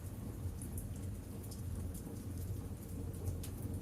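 Heavy rain pours steadily outside a bookshop, a dense, even hiss of falling water that holds at a constant level throughout with no voices.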